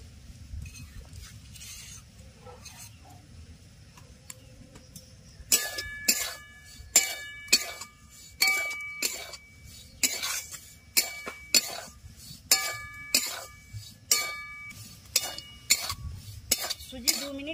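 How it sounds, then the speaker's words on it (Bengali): Semolina is dry-roasted in a kadai over a stove, heard as a steady rhythm of sharp metal spoon scrapes and clinks against the pan, repeating about every second after a quiet start, close and clear. "সুজি 2 মিনিট ভেজে নিয়েছি"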